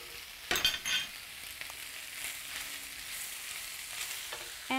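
Pasta frying in a pan for an Indian-style dish as coconut is stirred in: a steady sizzle with several sharp scrapes and clatters of a spoon against the pan, close and without speech.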